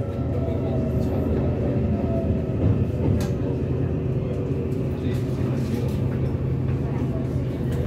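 An EMU800 commuter train, set EMU808+EMU807 running as service 4028 on the Yilan line toward Shuangxi, rolls past with a steady, close, heavy rumble and wheel noise, while someone talks over it.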